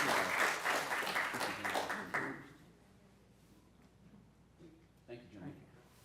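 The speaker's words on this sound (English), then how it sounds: "Can we give them a round of applause, everybody?" An audience at a live-streamed gathering claps in a brief round that fades after about two seconds, leaving quiet room noise and a few faint sounds.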